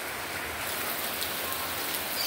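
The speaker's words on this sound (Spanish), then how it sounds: "vamos a aprovechar bajo la lluvia" Rain falls steadily outdoors during a rainy day of cooking chicken broth, a dense even hiss of drops with no breaks and no voices.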